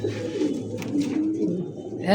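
Large pigeons at a pigeon market coo in low, throaty rolling calls that repeat steadily throughout, with faint voices murmuring in the background.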